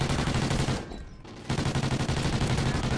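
Rapid automatic gunfire in Call of Duty: Ghosts rattles steadily and loudly, breaking off for about half a second before the dense stream of shots resumes.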